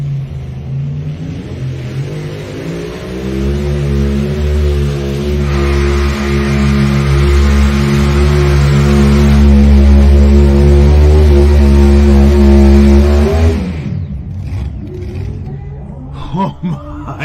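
A pulling tractor's engine roars at full throttle, loud and sustained with a steady deep drone that climbs in intensity before cutting off, with an announcer talking over it.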